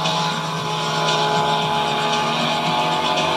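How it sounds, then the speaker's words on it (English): Rallycross cars race down a wet track at high speed, their engines holding a steady, loud roar with faint tyre hiss and no talking. "Drivers rocket down the liquid track at speeds up to 170 miles per hour."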